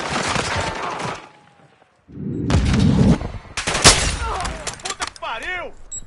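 Gunfire in Call of Duty Modern Warfare 2 multiplayer: loud bursts of shots at the start, a short silence, then dense rapid fire and impacts with whooshing and warbling effects, close and harsh.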